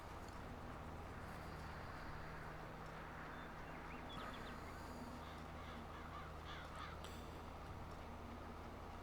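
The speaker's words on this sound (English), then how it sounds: "I hear magpie." Harsh chattering magpie calls in the game Farming Simulator 22 repeat faintly over a steady low hum and background noise.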